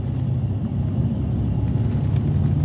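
Deep, steady V8 rumble from a Rolls-Royce on the move, a smooth low drone heard close from inside the car.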